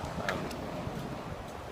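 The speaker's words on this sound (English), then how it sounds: "it's really windy, and there's nothing I can do about that" Wind buffets a phone microphone outdoors, producing a steady low rumble with faint rustling, fairly quiet and continuous.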